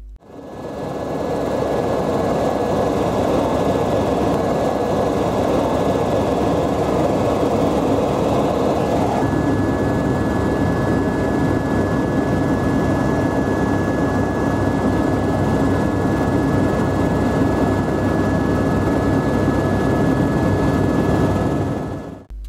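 Aircraft in flight over the Iguazu rainforest and river on the Argentina–Brazil border, a steady loud engine drone from inside the cabin, constant and unbroken throughout.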